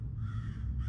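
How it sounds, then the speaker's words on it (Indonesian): A crow caws inside the horror game Greed Stays Home, one loud, steady, drawn-out call that fills the short moment on its own. "Suara burung gagak ya, guys."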